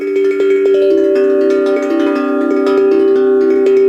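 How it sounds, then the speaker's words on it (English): Resonant tongue drum notes ring out one after another over a sustained humming undertone, clear and close, with no voices. "The bottom side begins to resonate with a hum."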